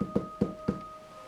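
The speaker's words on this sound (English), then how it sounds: "I'll tap like this" Three evenly spaced knocks on a surface inside an old hall, sharp and close against a faint steady hum.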